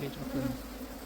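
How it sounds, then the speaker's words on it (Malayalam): Honeybees buzzing around a hive box, a faint continuous drone from several insects with no voices over it. "ഇതിലിപ്പോൾ ഒരുപാട് തേനീച്ചകൾ പുറത്തുനിന്ന് വരുന്ന തേനീച്ചകളുണ്ട്"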